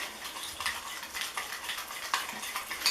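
A sugar-and-water hair scrub is stirred quickly in a small bowl, giving faint, close, gritty scraping strokes in a fast, uneven rhythm with a few light clinks; no one talks.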